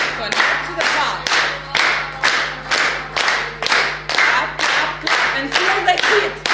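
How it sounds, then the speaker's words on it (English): A group of conference attendees claps hands in unison, about a dozen sharp, evenly spaced claps in a steady rhythm with a low hum underneath and no talking. "What we're gonna do is clap the hands first of all."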